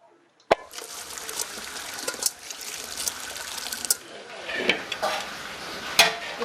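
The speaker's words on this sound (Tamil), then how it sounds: "இப்ப இத கஞ்சியை வடிகட்டிடலாம்." Starch water being strained off cooked rice for sambar rice, a splash followed by steady pouring and trickling, with light clinks of a metal pot and lid, close by and with no talk.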